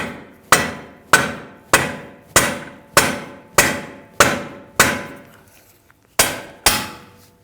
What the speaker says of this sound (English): You can always use a rubber mallet and just kind of bop the control arm here and push in on that bolt.